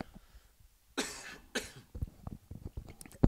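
Two sharp coughs close to the microphone, followed by a few faint throat sounds and small noises.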